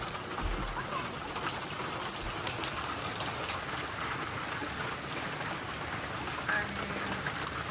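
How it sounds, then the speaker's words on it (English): Steady rain falling on a wet day in Oregon, an even close patter of drops on surfaces with puddles about, continuous and fairly loud with no voices. "It's a rainy day in Oregon."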